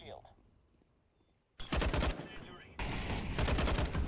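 Counter-Strike gunfire: after a quiet stretch, two loud bursts of rapid automatic shots crackle in close succession, each a dense rattling volley.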